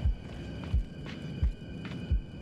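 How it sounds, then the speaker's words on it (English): A heartbeat in the PC game Medusa's Labyrinth, deep regular thumps repeating about every two-thirds of a second over a low ambient hum, with no talk. "I can still hear my heartbeats."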